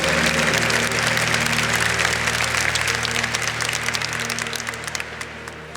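A church congregation applauds after a scripture reading, a dense, steady wash of many hands clapping that holds loud throughout and tapers slightly toward the end, with a sustained musical tone underneath.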